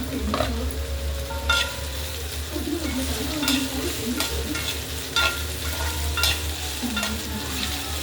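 Sliced okra stir-fries in hot oil, a continuous sizzling hiss with repeated scraping strokes of a spatula against the pan every second or so, close and steady, with low hum in the background and no speech.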